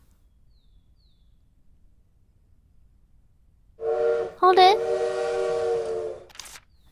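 In the video game Little Witch in the Woods, a bird imitates a steam train whistle. After a quiet stretch it gives a sustained, wavering whistle lasting about two and a half seconds, and a brief spoken exclamation comes just before it.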